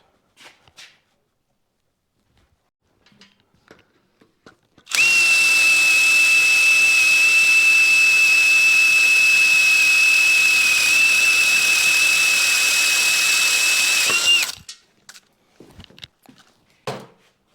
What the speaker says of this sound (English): I've got to drill a pilot hole first,